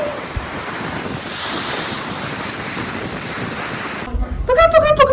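Sea waves wash and wind buffets the microphone aboard a cruise ship in a constant loud rush, until a voice breaks in over the noise near the end.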